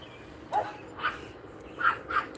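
A dog next door, a young female pup, gives four short, faint yips spaced across a couple of seconds, distant and alone against a quiet background.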